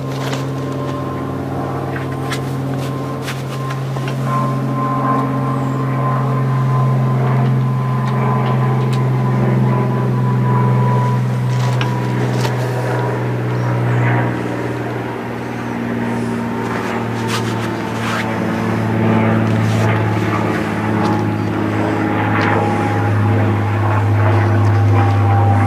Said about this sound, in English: as soon as that airplane flies by